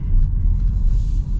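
A 2023 SUV, either a Ford Edge, Chevy Blazer or Jeep Grand Cherokee, rolls over road bumps, a loud steady low rumble with a slight dip near the end and no voices.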